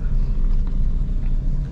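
A car engine holds a steady, low rumble under a constant accelerator, running evenly without revving up or down.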